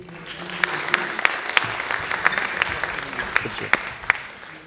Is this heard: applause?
yes